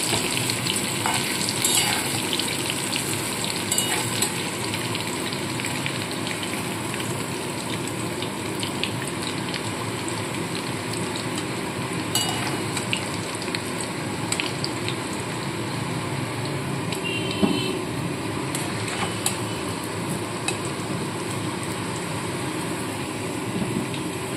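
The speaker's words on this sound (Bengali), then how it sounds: "দেখুন আলুর দমের আলু কিন্তু খুব ভালো করে ভাজা হয়ে গেছে" Potatoes for aloo paneer curry fry in oil with a steady, moderately loud bubbling sizzle that runs on evenly, broken by a few faint clicks of a utensil and no voices.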